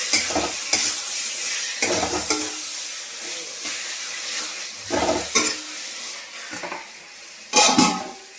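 Capsicum frying with chicken in a pan, a steady sizzle broken by several loud bursts of spatula stirring and scraping against the pan.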